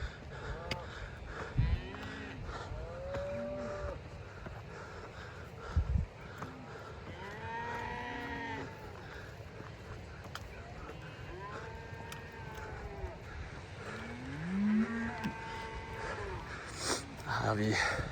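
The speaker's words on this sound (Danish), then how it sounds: "Her har vi hyrderne, der er ved at genne deres kvæg ned fra højderne på grund af uvejr, der kommer ind." Cattle being driven down from the mountain heights by herders in Kyrgyzstan as a storm approaches, with repeated loud moos from several animals near and farther off, over outdoor ambience and occasional voices.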